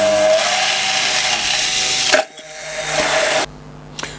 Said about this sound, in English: I'll take out your little whiz stick and give it a whiz.